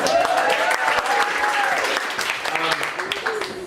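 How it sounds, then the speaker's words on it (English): An audience at a speech event breaks into loud, dense clapping that runs the whole moment, with a voice speaking over the applause. "Round of applause for Ari."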